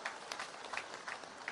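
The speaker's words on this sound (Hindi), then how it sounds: "जोरदार ताली बजाओ" A crowd at a public rally in Charkhi Dadri, Haryana claps in a quick, continuous patter, fairly faint and distant.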